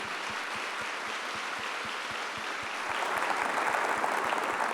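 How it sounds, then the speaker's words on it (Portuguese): A live audience bursts into sustained, dense applause at a church family talk, steady throughout and swelling slightly louder toward the end. "Pode aplaudir."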